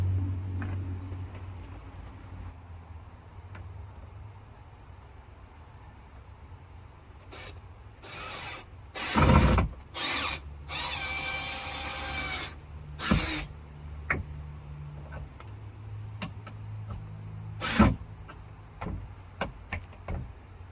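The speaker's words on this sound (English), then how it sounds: "I'm just going to put a screw in there." A screw is driven into pallet wood with a power driver while building a greenhouse. After a quiet stretch there are loud close bursts of motor whine and grinding, then a few scattered clicks and knocks.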